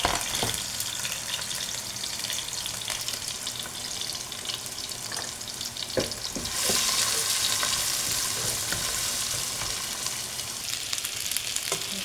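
Onion frying in a pot, a steady close sizzle with broad hiss that swells louder partway through, with occasional clinks and stirring scrapes and no talking.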